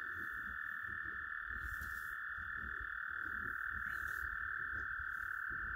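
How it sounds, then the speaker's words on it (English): Frogs croak repeatedly in a steady chorus, with a constant high insect-like trill running underneath throughout. "Now you can hear those frogs."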